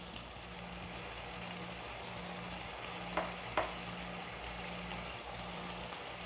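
Seekh kebabs go into hot, oil-separated gravy in a karahi, giving a steady close sizzle with two soft clinks partway through and no talking.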